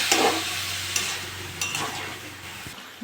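Prawns and mixed vegetables being stirred in a frying pan for a curry, a quiet sizzle with scraping strokes of a spoon against the pan, close up and without speech.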